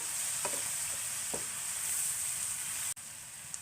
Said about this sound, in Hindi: इसमें पाव भाजी मसाला डालेंगे और अच्छी तरह से मिक्स कर लेंगे